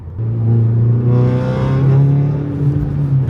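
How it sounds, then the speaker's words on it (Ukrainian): A car engine is revved up, its exhaust droning in a loud, rising and falling hum with clear harmonic tones, climbing in pitch over a few seconds close to the listener. "Я обороти прям піддав."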